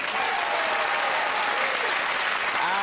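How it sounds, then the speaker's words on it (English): Studio audience applause at a Christmas comedy panel show, a dense continuous wash of clapping that stays loud and steady throughout, with light crowd murmur mixed in. "So please, stand outside your front door and clap for Joe Brand"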